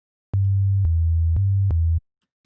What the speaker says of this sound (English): We should instead start with something like a sine wave.